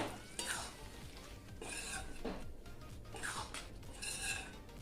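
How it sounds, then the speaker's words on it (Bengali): Potol chingri, pointed gourd and prawns, is stirred in a pan with garam masala and ghee: several separate scraping sweeps of a spoon against the pan over a gentle sizzle, close and moderately quiet. "সমস্ত উপকরণ মিশিয়ে নেব"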